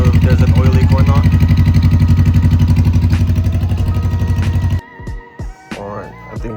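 A Honda Rebel 500 motorcycle idles close by with a steady, rapid low thumping pulse, then cuts off, leaving a few clattering handling sounds and a brief voice.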